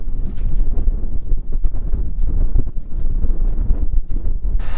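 Strong gusty wind buffets the microphone outdoors on a cold, 36-degree day with 20-mph gusts at a dirt trench dug for irrigation pipe, a steady loud low rumble swelling and dipping throughout with no talk.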